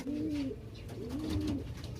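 A racing pigeon coos twice, near and steady, each call a soft rolling hoot with a brief gap between, against a low background rumble.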